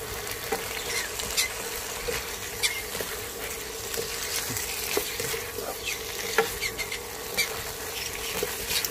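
Bamboo shoots stir-fried with curry paste for a vegetarian dish hiss in a steady sizzle, with a spatula scraping and clicking against the pan at irregular intervals, close and moderately loud, with no talking.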